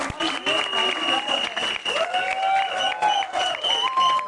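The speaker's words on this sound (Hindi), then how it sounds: "थोड़ा तालियों से इसका स्वागत करें यार।" Audience applause fills a trailer launch event in a mall cinema, sustained and dense from start to finish, with a voice talking over the clapping.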